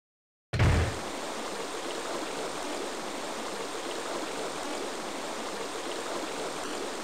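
Steady rushing water pours through the sewers in Resident Evil Code: Veronica X, a broad even torrent that starts abruptly after a brief silence and then runs loud and constant, with no voices over it.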